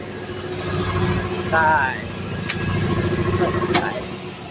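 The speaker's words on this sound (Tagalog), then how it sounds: "Magpapatay tayo ng compressor." An air compressor drones with a steady, mid-pitched motor hum that stays even throughout, while a person talks over it nearby.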